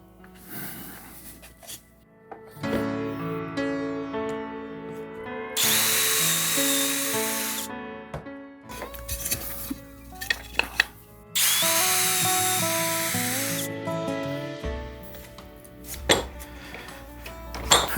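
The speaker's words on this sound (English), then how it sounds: "Okay, so now we've got our holes drilled." A power drill bores dowel holes into a wooden board in two long, loud bursts of whining, grinding noise, separated by quieter clinks and handling sounds in a workshop.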